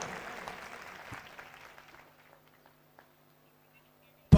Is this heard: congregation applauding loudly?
yes